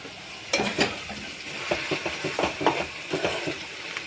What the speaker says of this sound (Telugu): ఉల్లిగడ్డలు కింద కొంచెం ఫ్రై అవుతాయి అని చెప్పేసి కలుపుతాను ఇప్పుడు కలుపుతా